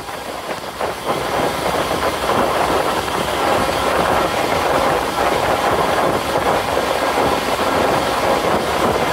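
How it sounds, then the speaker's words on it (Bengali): A Bhanga commuter train runs at about 60 km/h, giving a steady, loud rumble of wheels and carriages with continuous rail clatter throughout and no talk. "ট্রেনটি এখন প্রায় 60 কিলোমিটার গতিতে এগিয়ে যাচ্ছে।"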